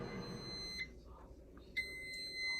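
An air fryer timer sounds two short, clear electronic beeps, spaced about a second apart, in a quiet kitchen.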